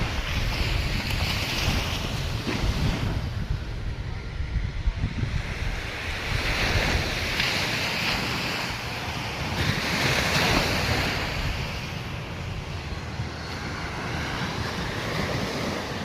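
Loud ocean surf rolls and crashes continuously near the shore, mixed with gusty wind buffeting the microphone.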